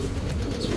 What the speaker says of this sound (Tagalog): So napakalaking ibon